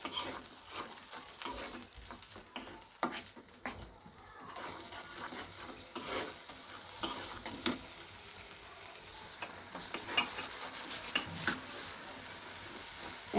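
Onion paste fries in a pan for a Bengali fish curry, giving a continuous soft sizzle broken by irregular scraping and clacking strokes of a spatula as it is stirred close up.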